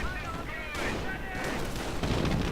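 Bren guns fire in a World War II strategy game, with a quick scatter of gunshots and light booms under a continuous rumble of distant battle, all at moderate loudness.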